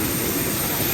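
Airplane engines roar at an airport close to the aircraft, a loud, continuous jet whine filling the moment without any talk.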